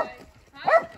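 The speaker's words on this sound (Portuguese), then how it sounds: "Cachorro chato." A nearby dog gives a short, sharp bark on a farm where foals are being treated for ticks, sounding once after a brief softer whimper-like yip.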